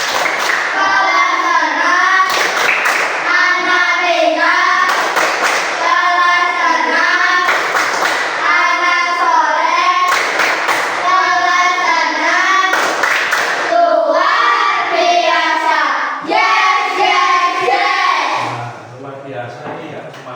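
Schoolchildren in a classroom perform tepuk semangat, a rhythmic group clap, with sharp bursts of clapping in a steady pattern and loud chanted voices over the top.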